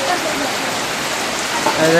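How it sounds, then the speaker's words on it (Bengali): Steady broadband rain patter fills the whole stretch, a dense hiss of drops close by with some faint voice-like tones near the end. "কি পরিমাণ বৃষ্টি হচ্ছে"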